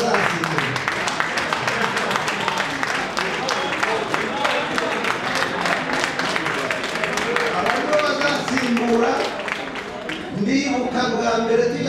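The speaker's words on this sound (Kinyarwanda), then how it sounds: "ndagira ngo mumere amashyi aba bana kuko nibo bazasimbura" An audience at a commemoration gathering claps steadily for children, a dense, continuous applause with voices mixed in.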